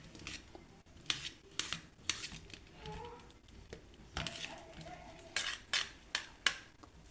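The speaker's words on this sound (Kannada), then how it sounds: "ಬಾಳೆಹಣ್ಣಿದು ಇದನ್ನು ಕಟ್ ಮಾಡ್ಕೊತೀನಿ." Knife cutting a banana for fruit custard, with repeated soft taps and clicks of the blade against a plate or board, faint and close, no talk.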